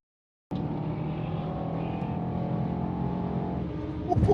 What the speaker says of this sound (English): that car sounds crazy